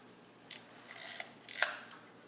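An Olympus 35RC film rangefinder shutter firing at 1/15 second: a few quiet mechanical clicks and a short whirring snap, then one more faint click, close up in a silent room.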